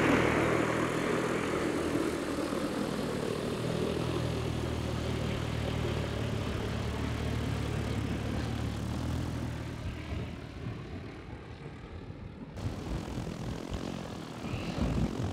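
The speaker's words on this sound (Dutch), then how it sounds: "Dan gaan langzaam de motoren draaien. Die gaan ietsje harder draaien." Propeller motors of a DJI FlyCart 30 cargo drone whir steadily and gradually spin up before takeoff, a loud continuous droning hum that dips briefly before rising again.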